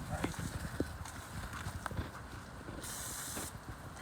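Insecticide is sprayed onto a wasp nest outdoors, giving a short, sharp hiss of under a second that stands out from a busy background of clatter and rumble.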